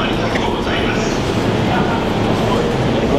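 A busy, packed Tokyo subway train rumbles with a dense, continuous loud roar and rattle throughout, with people's voices mixed into the din.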